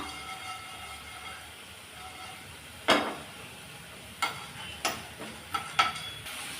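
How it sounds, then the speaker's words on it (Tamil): Spices dry roasting in a pan for a poriyal masala, stirred with a few sharp utensil scrapes and clinks over a faint, steady low crackle, close and quiet. "இப்போ லேஸாக எல்லாத்தையும் நல்லா வறுத்து விட்டுறலாம்"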